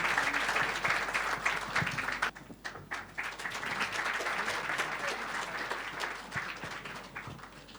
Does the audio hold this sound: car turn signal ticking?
no